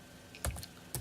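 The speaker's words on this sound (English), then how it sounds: "you need to type the following command" A few quiet keystrokes on a laptop keyboard, two soft clicks about half a second apart in a hushed room.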